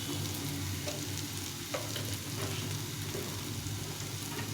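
Tomato and Kashmiri chili powder sautéing in a pan, a dense continuous hiss of frying with a few faint stirring scrapes, close and unaccompanied by speech.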